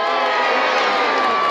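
Brief burst of loud crowd cheering at a Medieval Times jousting show, a dense wall of whoops and shouts from a packed arena, sustained and near.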